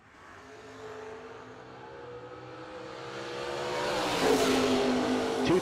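Drag-strip launch at the Bernie Mann Memorial No Delay Nationals as a 1967 Camaro and a fifth-generation Camaro pull away, engine roar building from moderate to loud with rising pitch, then a sharp peak near the end.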